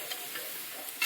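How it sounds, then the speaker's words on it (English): A spoon stirs eggplant, zucchini and tomato seasoned with black salt in a pan, making a soft steady sizzle with faint scraping, close and quiet with no talking. "And then stir it very well."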